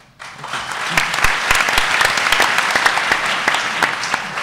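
Audience applause in a panel hall for a Democratic Progressive Party panelist at a Singapore 2015 general election political dialogue, dense steady clapping rising quickly and sustained throughout at moderate loudness.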